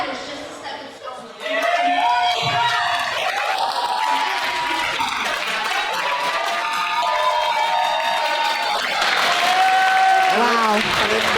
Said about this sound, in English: the ovation from the crowd says it all